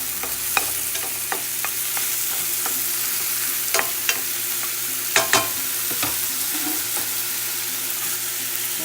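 Mushrooms and peppers with onions sauté in a pan with a steady, close hissing sizzle, broken by occasional sharp clicks and scrapes of stirring.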